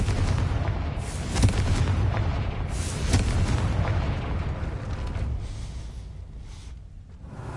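A Confringo blasting spell from Hogwarts Legacy detonates in a booming, rumbling burst that rolls on for several seconds, loud and dense, then fades, with a few sharper cracks layered over the low roar.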